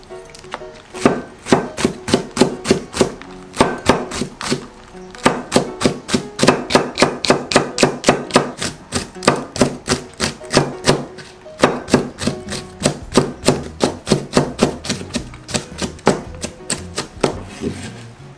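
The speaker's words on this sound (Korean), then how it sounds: "청양고추, 청고추 3개, 고추 2개 십자로 칼집을 넣어서 다져줄게요." Rapid, steady knife chopping on a cutting board as chili peppers are minced, dozens of crisp close taps in quick bursts separated by brief pauses.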